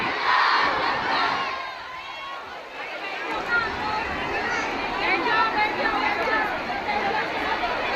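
A large crowd at a public welcome gathering in Mumbra roars a takbir slogan response in unison, loud and close, then settles into continuous shouting and chatter from many voices.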